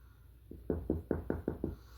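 Six quick knocks on wood, sharp and close, the first soft and the rest firmer in an even rhythm, standing alone over a quiet background.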